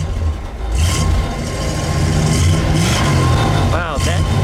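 A 1958 Imperial Crown Convertible's big engine revs and settles into a low, smooth rumble, loud and close, while people talk over it.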